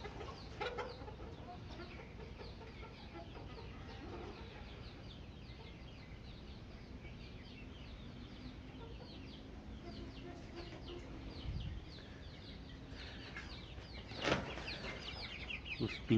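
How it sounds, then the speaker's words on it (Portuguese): Chickens cluck steadily around a rural yard with chicks nearby, a continuous mid-distance flock chatter with occasional louder squawks, and faint voices in the background. "As galinhas hoje."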